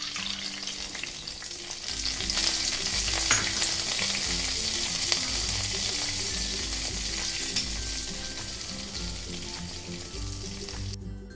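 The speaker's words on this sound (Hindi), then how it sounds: "ये लीजिए, हमारा तड़का बनके तैयार है, तो अब इसे खीर में डाल देते हैं।" Hot oil tempering sizzling and crackling loudly and continuously as it is poured into sweet corn kheer, with faint stirring clinks underneath and no talking.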